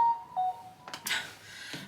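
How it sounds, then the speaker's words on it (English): A mobile phone goes off indoors during home cooking and eating, giving a brief electronic tone and a couple of short beeps, then a few louder bursts of noise, all fairly quiet with no talk. "my phone just went off"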